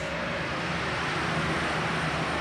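A pulling tractor at an Indy super pull roars with a dense, loud, steady engine blast as it launches off the line, filling the whole moment with no talk.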